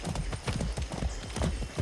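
Horse hooves clip-clopping in Far Cry 6, a quick, even run of close, loud hoofbeats over a brief ride.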